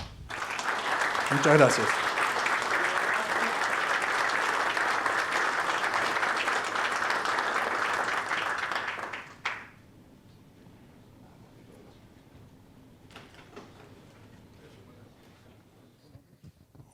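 Rotary Club audience in Buenos Aires giving loud sustained applause for a colonel, dense clapping for about nine seconds before stopping abruptly; a voice then speaks briefly over a quiet room.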